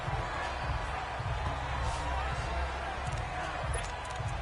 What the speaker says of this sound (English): combined with this crowd noise, makes it very difficult to run offense